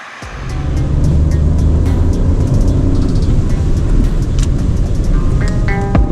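A BMW 218 M Sport Pro's 1.5-litre turbocharged three-cylinder engine runs with a loud, steady, close-up rumble, alone without speech.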